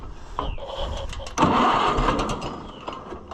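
The gas engine of an Oliver 550 tractor runs roughly instead of settling to an idle, sputtering up and surging loudly midway, heard close by with faint background sound.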